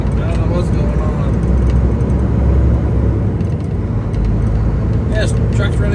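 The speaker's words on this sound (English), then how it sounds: "truck's running great. It started up good." Volvo truck's engine idling steadily on a cold early morning, a loud low rumble filling the scene, with a voice talking over it.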